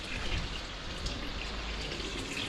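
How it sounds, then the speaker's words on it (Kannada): Water runs from a tap in a steady, even hiss of moderate loudness, continuous from start to end with no voices. "ನೋಡಿ, ನೀರು ಬಿಡೋಣ."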